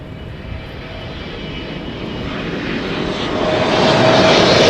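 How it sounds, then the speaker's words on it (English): A China Southern Cargo Boeing 777 freighter arriving at Schiphol gives off a broad, steady jet roar that swells gradually louder as it nears, heard alone with no voices. "Arriving from Shanghai, this is China Southern Cargo Flight 453"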